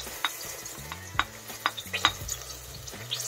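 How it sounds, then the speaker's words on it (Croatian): Chopped onion frying in oil in the same pan the meat was just browned in, a low sizzle under sharp spoon-against-pan clinks and stirring scrapes at a steady irregular pace. "Dodajemo luk tamo gdje smo pržili meso."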